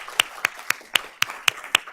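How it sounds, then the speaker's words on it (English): Steady, rhythmic hand clapping, about eight sharp claps evenly spaced, close and fairly loud, with no voices, applauding teachers at a school board of trustees meeting. "Let's give these teachers a round of applause"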